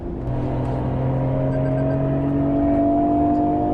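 A 1993 Nissan GT-R R32 engine revs up steadily, a loud sustained rising drone heard close from inside the car, with no talking.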